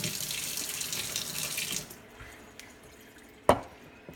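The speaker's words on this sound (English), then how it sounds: "I usually rinse that with hot water." Hot tap water running over a vape coil in a sink, a steady hissing stream for about two seconds that then cuts off, followed by faint drips and a sharp clatter near the end.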